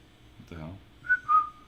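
Short whistled notes from a person, two quick rising-falling tones after a brief burst of speech-like voice, fairly faint over low background hum.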